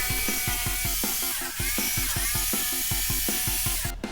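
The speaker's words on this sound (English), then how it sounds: "I cut out the pattern from plywood again with a jigsaw and a handsaw" Jigsaw cutting through plywood: a loud, steady buzzing drone with a fast regular stroke rhythm throughout, nearby, ending in a brief harsher burst.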